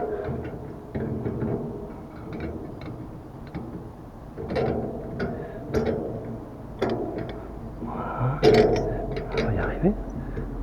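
Metal bolts and washers being fitted while assembling a HUKOER solar cooker, with scattered light clicks, taps and clinks of hardware at close range, irregularly spaced over a low background.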